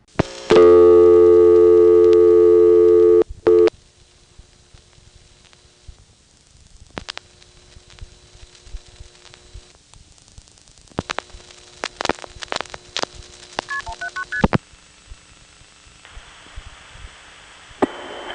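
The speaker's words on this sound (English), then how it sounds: "If I dial 179 and don't squeeze any digits at the end, Greenville will put the call through with only 3 digits" Dialing 179 on a 1978–1980 Greenville, North Carolina coin phone: a loud steady dial tone cuts off, then faint clicks and switching noises on a quiet line, ending in a steady high tone.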